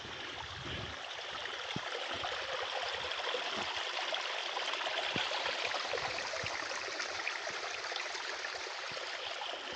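Stream water flows along a forest trail beside a small bridge, a steady, soft hiss of running water that continues alone and unbroken throughout.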